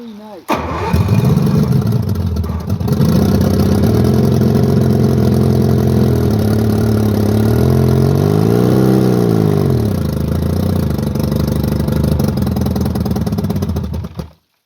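A 1964 Mercury 1000 outboard motor starts and runs loud and close, a rough steady drone that rises and falls as it is revved and then cuts off abruptly at the end.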